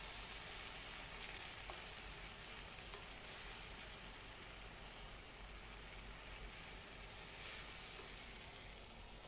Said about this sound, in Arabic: الحين انزل الطماط واخلطه مع البصل شوي